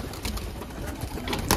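Green pigeons coo softly amid a busy, noisy background, with low murmuring tones near and a brief louder burst at the end.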